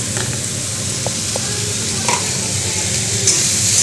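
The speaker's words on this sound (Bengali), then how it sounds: "নুন দিয়ে একটু নাড়তে হবে।" Food frying in a pan after salt is added, a loud close sizzle with a few light stirring scrapes against the pan, steady throughout with no talking.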